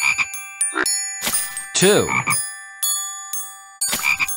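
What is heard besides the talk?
frogs croaking in Curious George frogs video game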